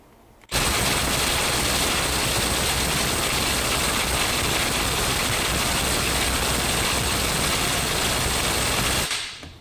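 A DeWalt DCF850 Atomic 20V compact impact driver pushing toward 400 foot-pounds, loud close-up hammering rattle held steadily for about nine seconds before stopping abruptly, with no voices.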